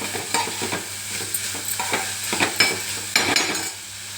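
Carrot and beetroot curry cooking in a pan on the stove, with a steady soft sizzle and repeated spoon scrapes and stirs against the metal, close and fairly loud, with no voices.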